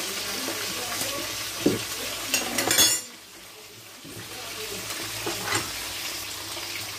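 Cooking oil going into a hot pan on the stove, giving a steady frying sizzle with brief clinks of a pot and utensils, close and fairly loud, with a short quiet gap in the middle.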